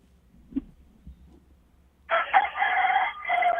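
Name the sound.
rooster crowing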